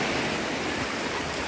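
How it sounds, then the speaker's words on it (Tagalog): Strong ocean surf at a beach, a dense, continuous wash of crashing water filling the whole stretch at steady loudness, with no talk over it. "May malakas yung alon eh."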